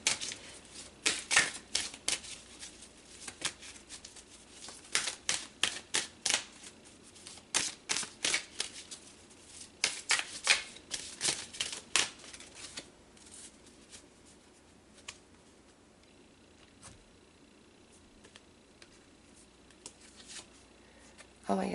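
A deck of tarot cards is shuffled by hand in rapid riffling bursts for about twelve seconds, then the sound fades to quieter handling and soft rustles.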